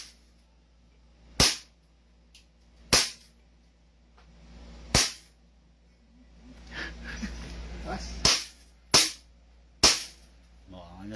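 Seven sharp gunshots go off one at a time at a firing practice session, loud close cracks spaced irregularly over several seconds, with people talking quietly in the background between the shots.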